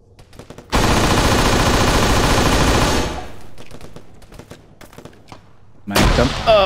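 Arma 3 combat: a sustained, loud burst of automatic fire emptying a magazine, followed by scattered distant shots and a fresh loud burst at the end, no talk.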